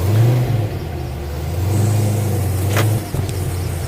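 A Chevy Camaro ZL1 revs close by, its engine note surging and falling in two strong pulls with a short dip between them and no talk.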